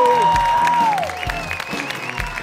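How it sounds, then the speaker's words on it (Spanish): A television studio audience applauds for a musical show, steady dense clapping held at a loud level, with a sustained tone and some chatter mixed in underneath. "Vamos, ¡fuerte el aplauso!"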